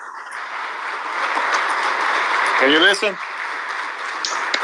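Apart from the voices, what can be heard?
audience applauding on the floor during a politician's Bitcoin speech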